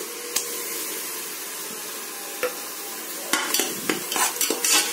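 Yogurt, mint and ground green chili masala sautés for a country chicken dum biryani, a continuous close sizzle broken by several scraping stirs near the end, with no speech.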